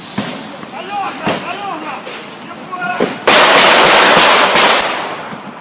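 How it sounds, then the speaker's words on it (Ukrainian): Sharp gunshot cracks ring out during a violent street clash outside an opposition office in Ukraine, several sudden loud bangs amid crowd noise and voices, the last few close and heavy. "лунали постріли"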